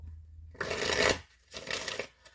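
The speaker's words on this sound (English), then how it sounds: "I am going to shuffle." A deck of tarot cards is shuffled close up in two quick riffling bursts separated by a short pause, crisp and papery against an otherwise quiet room.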